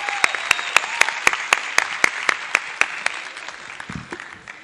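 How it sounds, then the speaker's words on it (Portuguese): Rhythmic clapping at a talk on autism in Campos, Brazil, with sharp, evenly spaced claps standing out over a softer spread of applause that thins toward the end. "Palmas, gente!"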